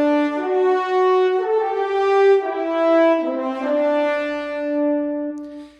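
A two-horn ensemble from the CineBrass sample library plays a smooth legato line, sustained notes gliding one into the next across a continuous phrase of about six seconds, without any speech.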